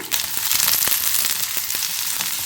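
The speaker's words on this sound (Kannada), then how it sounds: "ಈರುಳ್ಳಿ, ಹಸಿಮೆಣಸಿನ್ಕಾಯಿ, ಬೆಳ್ಳುಳ್ಳಿ, ಜಿಂಜರ್ನ ಹಾಕ್ತಾ ಇದ್ದೀನಿ" Onions, green chilies, garlic and ginger fry in a pan with a loud, dense hiss and crackle, a few stirring knocks rising out of the sizzle, and no voices.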